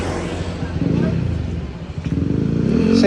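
A Yamaha NMAX scooter's engine runs close by, a rough rumbling idle with clattering mechanical noise that swells toward the end, while someone talks over it.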